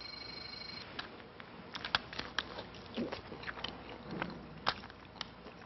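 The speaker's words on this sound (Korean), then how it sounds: "양념치킨을 한번 먹어보겠습니다" Seasoned yangnyeom fried chicken being bitten and chewed up close, with soft crunches and mouth sounds coming in irregular bursts against a quiet background.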